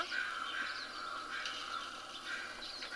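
Birds chirping in a lush forest, a steady wash of faint overlapping tweets and calls with no single voice standing out.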